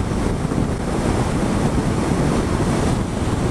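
Wind roars steadily across the microphone during a motorcycle ride, a dense, loud rush of noise with no break.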